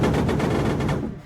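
An anti-aircraft vehicle in the Minecraft MCHeli-Overdrive mod fires its high-velocity cannons in a rapid, loud burst of evenly spaced booming shots, about a second long, ending abruptly with a brief fading tail.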